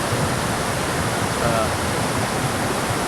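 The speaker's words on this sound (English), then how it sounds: "the crossing of the creek here, which is running really high" A fast-flowing spring creek running high gives a close, steady roar of rushing water with no break.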